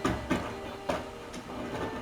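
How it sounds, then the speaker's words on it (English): A giant truck rolling past outside, a continuous broad rumbling roar with a few louder bumps, heard from indoors at moderate level without any talking. "I know y'all can hear that giant ass truck outside"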